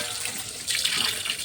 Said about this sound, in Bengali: তো চলো তার আগে ঝটপট করে মাছগুলোকে ধুয়ে ফেলি।